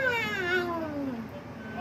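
A cartoon wild cat lets out a loud, drawn-out yowling meow that slides downward in pitch, close and clear, with another short cry starting at the end.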